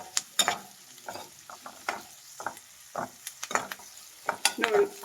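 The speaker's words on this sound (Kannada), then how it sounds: "ಮಿಕ್ಸ್ ಮಾಡಿ ಈರುಳ್ಳಿನ ಚೆನ್ನಾಗಿ ಫ್ರೈ ಮಾಡಬೇಕು." Onions stirred and fried in a pan for capsicum masala, with irregular scraping strokes of a spoon against the pan over a soft, steady sizzle.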